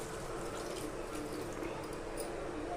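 Water poured into a raw fish and green mango curry in a pot, a steady close splashing flow throughout with no talk.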